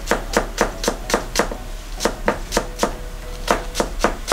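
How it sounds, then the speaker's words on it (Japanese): A knife slicing a halved Japanese long green onion (naganegi) diagonally on a cutting board, making quick, regular close-up chopping taps in brisk bursts with short pauses and no talk. "斜めに切っていくんですよ"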